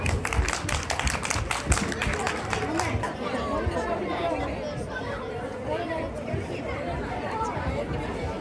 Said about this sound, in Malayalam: ഒരു കൈയടി കൊടുക്കണേ പ്ലീസ്